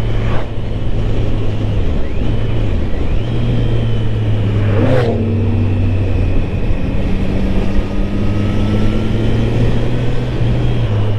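A 2023 Triumph Street Triple RS motorcycle being ridden during break-in, a loud steady engine drone with shifting pitch and wind rush throughout, including one brief whoosh of something passing.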